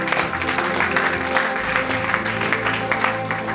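A church congregation applauds for Jesus at a deliverance and miracles service, with dense, sustained clapping over music and a voice, loud and continuous throughout.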